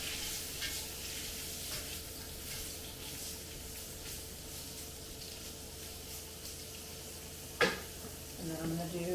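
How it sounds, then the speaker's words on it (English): Sausage sizzles and fries in a pot for a Louisiana gumbo, a constant crackling hiss close by, broken by the scrape of a stirring utensil and a sharp clink against the pot near the end. "Stir the sausage up."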